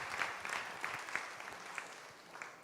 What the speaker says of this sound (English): Let's have a round of applause for that lovely dream